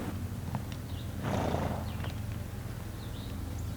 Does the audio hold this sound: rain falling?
no